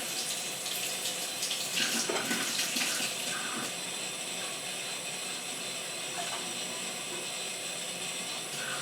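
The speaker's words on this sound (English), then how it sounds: "So you pour the water in, and then you mix it up." Warm water runs steadily from a tap into bread dough being made, a continuous close hiss and splash with some light clinking early on.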